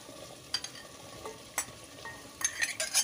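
Pointed gourd is tossed into a pan of long-cut potatoes frying in oil. A soft, low sizzle runs underneath, with intermittent scraping and stirring clatters that grow busier toward the end. No one speaks.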